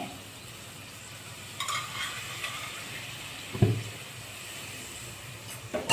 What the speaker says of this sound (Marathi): आपण छान परतून घेणे पाहू शकता